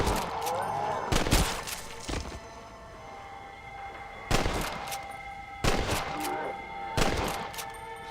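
Gunshots ring out in Red Dead Redemption Undead Nightmare, a handful of sharp loud cracks spaced irregularly, one early pair then three more later, each with a short ringing tail over a quiet game ambience.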